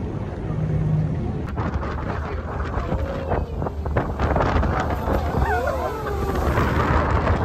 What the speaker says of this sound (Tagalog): Malakas ang hangin, malakas ang alon.